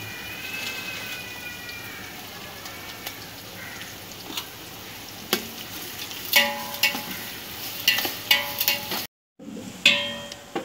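Onions with rock salt sautéed in a large pot for chicken biryani, a continuous crackling sizzle with intermittent clanks and scrapes of a stirring utensil, growing busier toward the end, with a brief dropout near the close.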